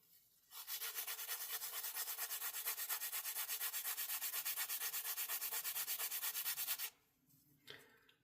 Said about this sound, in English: sharpening up the charcoal.